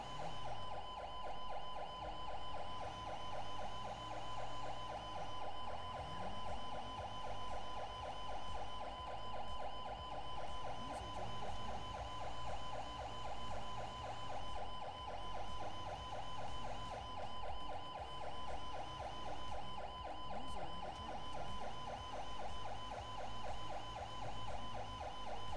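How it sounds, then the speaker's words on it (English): An emergency vehicle siren from a fire department shift wails steadily and loudly throughout, its tone holding a constant pitch with slow rhythmic pulsing, alone with no voices. "Change the siren just a little bit."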